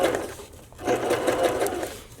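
A sewing machine stitches cut-and-sew bra foam in one steady, continuous mechanical whir that runs throughout at close range.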